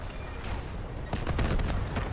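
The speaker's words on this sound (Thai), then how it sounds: "เสียงระเบิดดังกว่าเสียงปืน" Gunfire and explosions in the Delta Force video game, a dense, fairly faint battle din of rapid shots and muffled blasts that thickens toward the end.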